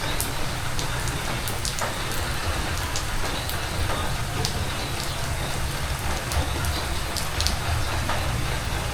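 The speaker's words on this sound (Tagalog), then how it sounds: "Maulan po dito sa amin," Steady rain falls outdoors in an even hiss, with scattered sharper drops ticking on a nearby surface throughout.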